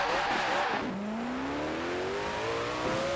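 A Koenigsegg Jesko pushed toward 300 mph in the racing game Forza Horizon 4: a loud, steady engine whine drops at a gear change, then climbs smoothly in pitch as the car keeps accelerating, with no talk.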